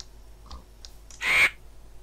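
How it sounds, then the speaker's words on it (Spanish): A crow in a modded Minecraft world gives one loud, harsh caw after a few faint ticking game sounds, then the scene goes quiet. "Es un cuervo."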